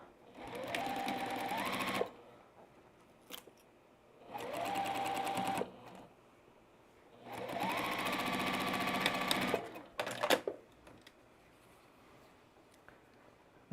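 Sewing machine stitching a Sand Dollar quilt block, three bursts of fast, steady mechanical whirring that rise in speed, with brief pauses and clicks of fabric handling between runs.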